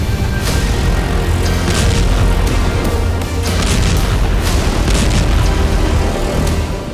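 Bombs dropped by a B-2 bomber strike an underground missile depot in Yemen, producing a loud, sustained roar of blasts and rumbling debris with sharp bursts throughout.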